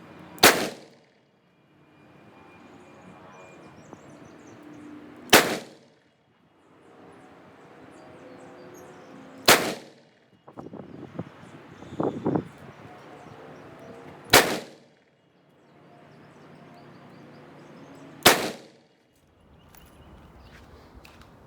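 Five loud, sharp gunshots from a Marlin 94 lever-action rifle in .44 Magnum firing Remington 180-grain loads, spaced about four seconds apart outdoors, with quiet handling and clatter between shots.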